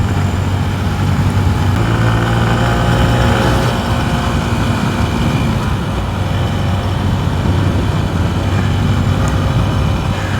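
A 125cc motorcycle engine holds high RPM above 6,000 while riding, a steady loud drone with wind rush that continues unbroken from start to finish.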